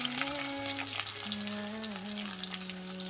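Onion and garlic frying in a pan for a crab gravy, a soft steady sizzle with light stirring, faint and close, with no talk.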